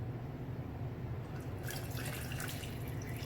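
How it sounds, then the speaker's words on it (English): Water poured into a blender holding fig salad dressing, dripping and splashing in a steady stream over a low continuous hum, with no voices. "now I'm going to go ahead and add a little bit of water to it"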